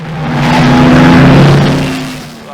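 A Reynard SF81 Formula Ford race car in a historic Formula Ford 2000 race at Castle Combe sweeps past, its engine note swelling loud then fading with a slight pitch drop as it goes by.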